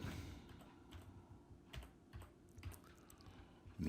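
Typing on a computer keyboard while entering column titles into an Excel spreadsheet: soft, irregular key clicks in quick bursts, fairly quiet and close, without any speech.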